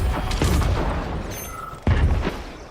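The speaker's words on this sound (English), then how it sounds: "That's fucking artillery." Artillery fire in the game Atomic Heart booms out as a few heavy, distant-sounding blasts, with a sharper impact near the end and rumbling noise between.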